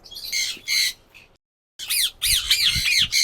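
A caged parakeet gives loud, harsh squawks close by, a few spaced calls, a short silent gap, then a quick run of repeated shrill cries.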